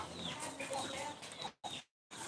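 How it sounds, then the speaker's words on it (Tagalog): Farmyard chickens cluck close by in quick, busy bursts among a rural flock that also includes a duck and a small turkey, the sound breaking off into brief silences near the end. "Ayun yung makulit na manok."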